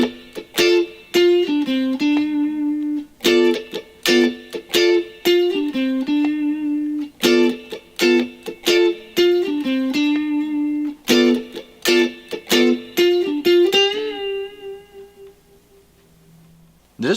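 Electric guitar playing a funky part, a fast run of crisp, percussive stabs and picked notes with bends, played alone, close and clear, ending on a ringing chord.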